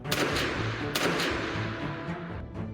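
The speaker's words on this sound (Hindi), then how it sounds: "मजमे से 2 गोलियां चलने की आवाज आती" A dramatized sound effect of gunshots fired from a crowd at a political rally in Pakistan: sharp, loud blasts over a dense, rumbling noise bed, with no voices.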